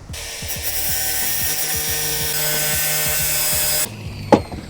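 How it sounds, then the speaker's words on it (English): A 4-inch angle grinder cuts at 45 degrees into the back of a Victorian path tile, a loud steady whine that runs for nearly four seconds, stops, and is followed by a brief knock. "Just use my 4-inch grinder."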